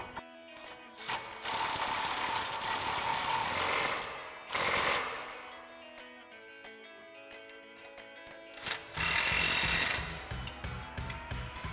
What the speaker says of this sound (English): Now we'll grab our 18mm socket on our impact and our 18mm wrench and get these tightened